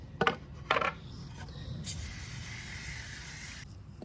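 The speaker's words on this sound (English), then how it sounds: "So we'll spray them up with oil." Two quick bursts of a spray can, then a longer steady hiss of oil being sprayed onto pine boards close by, ending abruptly.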